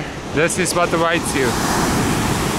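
Surf washing onto a beach at Nusa Penida, Bali, a steady broadband rush of waves near and loud, with someone talking over the start.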